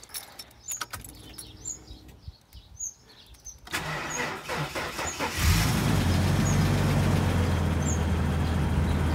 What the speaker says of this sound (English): keep in mind this thing hasn't been started since yesterday, so it's dead cold, so expect it to run pretty rich when it first starts up